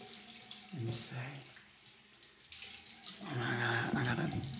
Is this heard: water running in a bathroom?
yes